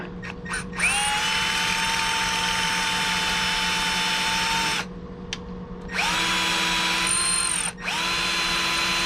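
A power drill spinning at high speed as it hogs out an aluminum part, a loud whining whir that cuts out briefly and restarts, with pitch shifting under load.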